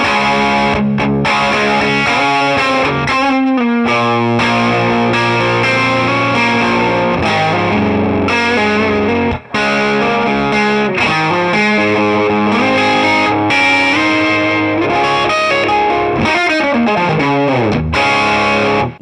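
A Gibson Murphy Lab electric guitar plays through a heavy distortion tone, with thick, sustained rock riffs and bends that stay loud and dense throughout, with no talking.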